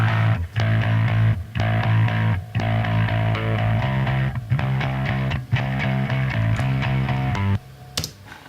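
A gritty, distorted electric bass, run through a pedal board adding distortion, overdrive and compression, plays a rhythmic riff with short gaps between phrases, loud and upfront with no other instruments.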